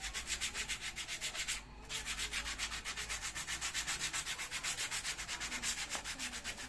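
Steady rhythmic rubbing of sandpaper across a surface to rough it up before carbon-fibre work, close and continuous with even back-and-forth strokes and one brief pause partway through, no talking.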